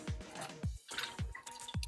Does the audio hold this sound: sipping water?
yes